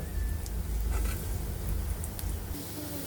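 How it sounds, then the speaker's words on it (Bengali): Shrimp paste fritters fry in hot oil, a dense, steady crackling hiss with scattered small pops and a low rumbling undertone, close by and continuous throughout. "এভাবে আমরা বাকি বড়াগুলো ভেজে নেব"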